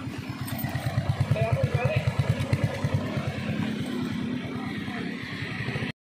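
A Rusi RFI 175 motorcycle idles steadily after being repaired for hard starting and stalling at idle, its close single-cylinder engine thumping in an even, rapid pulse with no break.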